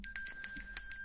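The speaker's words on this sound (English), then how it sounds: "That's a big bell." A stream donation alert bell rings in a quick burst of several bright metallic strikes, crisp and sustained with shimmering overtones, fairly close and alone with no talk.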